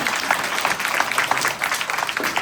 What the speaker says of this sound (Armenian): ծափահարեք Տիգրան Պետրոսյանը